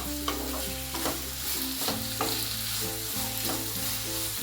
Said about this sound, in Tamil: நம்ம இந்த பிரண்டையை நல்லா வதக்கிடலாம்.